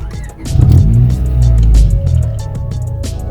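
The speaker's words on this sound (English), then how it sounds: "so we're gonna go ahead and fire it up" A 2000 Honda Civic Si EM1 cranks and fires up, then settles into a loud, close, steady droning exhaust note with a few small rattles, recorded indoors with no talking.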